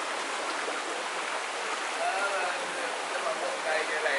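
Hot spring water pouring steadily out of rock at Bath Fountain in St. Thomas, Jamaica, a continuous close hissing rush with no pauses.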